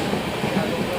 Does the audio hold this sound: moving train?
yes